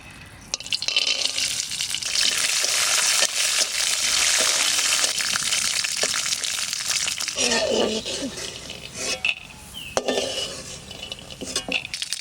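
Peanuts fry in mustard oil in a pan, giving a steady, loud sizzle with occasional clinks of a utensil against the pan, continuous for about twelve seconds.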